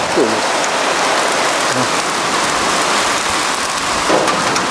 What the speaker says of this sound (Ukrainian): Це ще й град